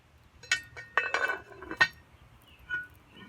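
Metal and glassy clinks as a lid is set onto a cast-iron Dutch oven of simmering jambalaya over a campfire: several sharp, close knocks in quick succession, then a softer final clink, with no talk.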